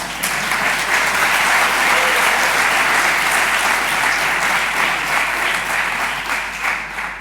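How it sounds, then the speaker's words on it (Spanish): Steady, dense applause from a conference audience at a tech event, sustained and loud throughout with no break, fading only slightly at the end. "Un aplauso."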